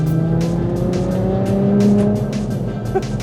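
A Nissan GT-R Nismo's engine revs and climbs in pitch as it accelerates hard to overtake, a loud close-up drone rising steadily with gear-like steps.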